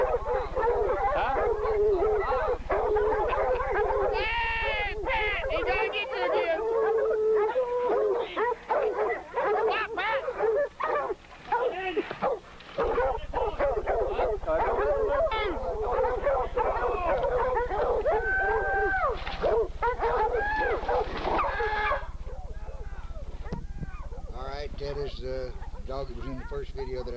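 American Bulldogs bark and yelp excitedly while catching a hog, dense overlapping barks and whines close and loud, with people shouting in between.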